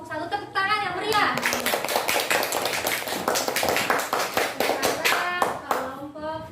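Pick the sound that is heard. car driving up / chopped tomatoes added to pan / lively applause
lively applause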